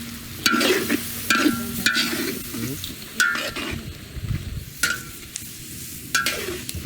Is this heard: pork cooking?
yes